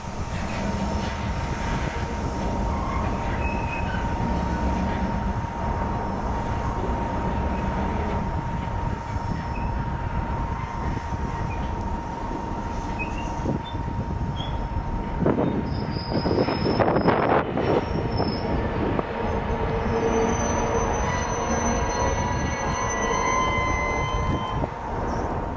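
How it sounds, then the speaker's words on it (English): NYAR RS70/71 locomotives run around a string of train cars with a constant low rumble and steady drone, and wheels squeal sharply in bursts midway. "you can see the engines running around the cars in order to bring them to the opposite end of the train"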